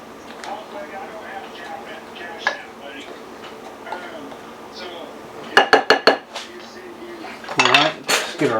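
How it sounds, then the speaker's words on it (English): Dry ingredients are mixed in a bowl with a utensil, producing light scraping and ticking, then a quick run of sharp clinks and a louder burst of clattering against the bowl near the end; a person talks at times. "So let's mix these dry ingredients up."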